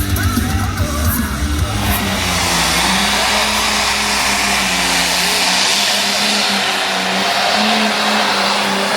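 A T7 show vehicle's engine roars loudly and steadily at an agricultural expo, with a deep low rumble that drops away partway through while a broad, dense wash of crowd and arena noise continues.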